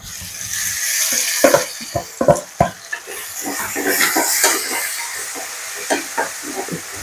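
Tomatoes dropped into frying onions for a crab curry hiss and crackle, with a run of sharp clatters and knocks from the pan and spoon early on, then a rising steamy sizzle, close and alone without voices.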